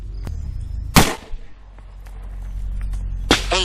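A Ruger Redhawk Alaskan revolver in 454 Casull, loaded with a Winchester small rifle primer, fires two sharp, loud, close shots a few seconds apart, each cracking through a low background hum.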